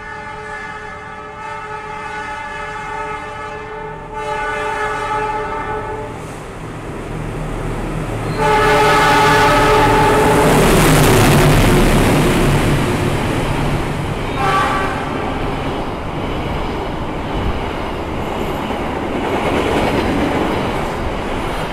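The Majapahit, an Indonesian economy-class train, rumbles steadily past at close range, with a loud horn sounding in sustained blasts and rising wheel and track noise in the middle.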